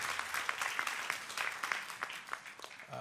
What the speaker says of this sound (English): Can we clap for them one more time?